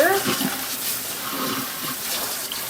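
Tap water runs into a kitchen sink to fill it for washing fruit, a loud, steady splashing gush close by that carries on without pause.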